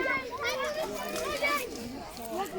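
Children shout and play noisily outdoors in a wooded public barbecue area in the Czech Republic, with overlapping high voices chattering continuously at moderate distance.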